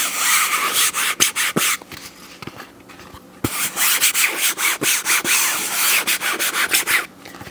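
Fingertips rubbing across the gritty yet fine raw carbon fiber face of a Vanguard Control pickleball paddle, a close, loud scratchy rasp in repeated strokes with brief pauses and sharp ticks between passes.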